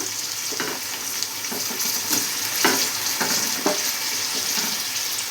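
Chopped onions, green chillies and whole pulao spices fry in a pan, with a continuous bright sizzle and scattered sharp pops and crackles at close range. No one speaks.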